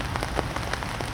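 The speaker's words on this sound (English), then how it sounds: "Rain's supposed to sort of stop around 12 o'clock" Steady rain patters on an outdoor carp-fishing bank in a brief, dense, even wash of drops with no pauses.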